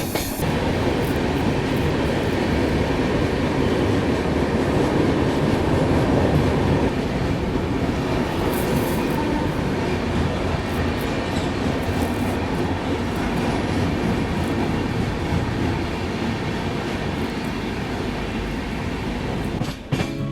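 Pushpak Express rolling through the Kasara Ghat section, a loud, steady rumble of rail wagons with rhythmic clickety-clack of wheels over the track joints, continuous throughout with no talking.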